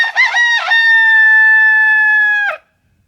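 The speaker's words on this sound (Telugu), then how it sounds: "అటువైపు చూస్తున్న కోడికి సింహం కనిపించింది. ఒక్కసారిగా భయంతో గట్టిగా అరిచింది." A hen in a cartoon fable lets out a single loud, drawn-out squawk of fright after a couple of short opening cries. It sounds close and clear, with no other sound behind it, and ends sharply in silence.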